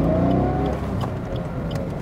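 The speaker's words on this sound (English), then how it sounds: "It really sounds good for a small engine car." A 2017 Suzuki Baleno with a 1.0-litre Boosterjet turbo engine pulls along a motorway, its engine tone rising in a close, steady drone that eases slightly after a second, with no talking.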